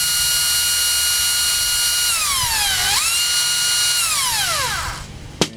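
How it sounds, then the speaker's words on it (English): A cordless drill spins a bicycle hub: a steady high whine that dips in pitch as the motor slows, recovers, then winds down, ending with a short clunk, close and fairly loud. "you can run it a little bit if you want to with a cordless drill"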